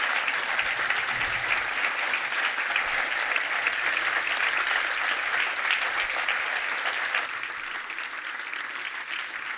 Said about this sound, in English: Should we give him a big round of applause?